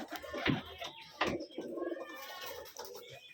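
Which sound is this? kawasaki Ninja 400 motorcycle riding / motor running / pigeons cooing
pigeons cooing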